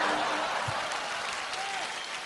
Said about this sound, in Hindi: मनीष पॉल के लिए जोरदार तालियां।